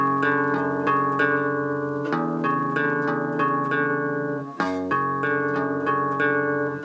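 Clean electric guitar picking a repeating arpeggio pattern from a song with the open top string ringing, steady and close, with a brief chord change partway through.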